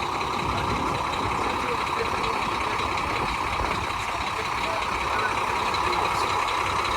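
A Class 1 tractor truck reverses toward its trailer, with reversing beeps running continuously over a steady diesel engine rumble close by.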